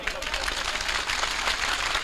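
Audience at a live stage program breaks into dense, sustained clapping that stays fairly loud throughout the short burst.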